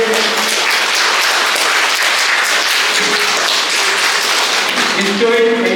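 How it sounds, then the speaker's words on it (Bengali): An audience claps at a prize distribution ceremony at an art academy, making dense, steady applause that fills the whole stretch, with voices faintly mixed in. "আপনারা একটু হাততালি দিয়ে"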